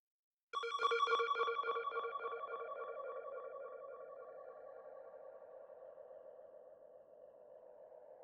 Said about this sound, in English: Which are this dub siren and ambience.